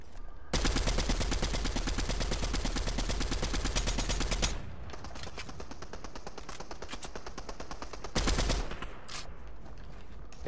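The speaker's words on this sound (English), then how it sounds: "I just destroyed this kid with that shotgun" Rapid, loud bursts of shotgun fire in the Fortnite video game, a dense sustained volley followed by quieter scattered shots and a second short burst near the end.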